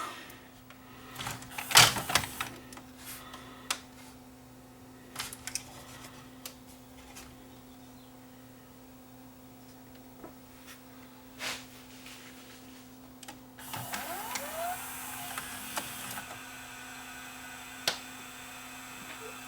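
A Toshiba M750 VHS recorder, under repair for eating tape, loads a cassette. Faint mechanical clunks and a brief whirring motor sound come through a quiet room with a constant low mains hum.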